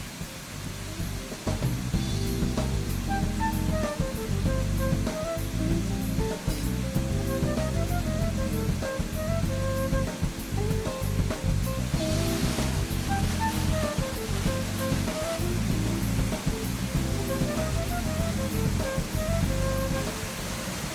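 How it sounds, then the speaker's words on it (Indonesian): The Jantur Inar waterfall in Kutai Barat, Indonesia, one of the region's largest and tallest, roars as a constant, dense rush of falling water, loud and unbroken throughout with no voices. "Jantur Inar merupakan salah satu air terjun terbesar dan tinggi di Kutai Barat"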